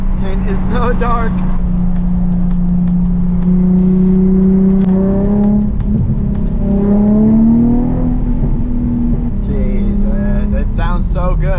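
A Nissan 350Z engine drones steadily, then rises and falls in pitch through several revving downshifts, with a person talking over it and brief blips near the end.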